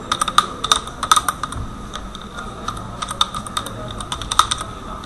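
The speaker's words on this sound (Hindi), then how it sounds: "यहाँ मैं अब यूजर का नेम एंटर कर रही हूँ।" Keys clatter on a computer keyboard as a user name is typed into a form, a close, irregular run of quick clicks in short bursts with brief pauses between them.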